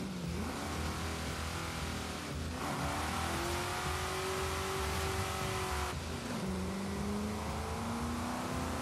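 An MG XPower SV-R in Forza Horizon 5 accelerates hard, its engine note climbing steadily and dropping briefly at two gear changes, loud and continuous with no talking.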